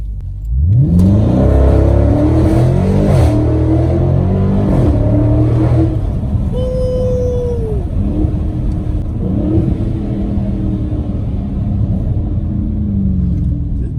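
A 2020 Dodge Charger 392 Scat Pack launches hard, its engine roaring up through rising revs with quick gear shifts, then settling into a loud, steady rumble heard from inside the car; no talking.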